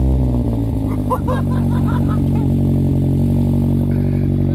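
A Mazda MX-5 ND fitted with a BBR exhaust silencer idles loud and close with a deep, steady drone, the engine blipped in a few quick revs early on before settling back to a steady idle.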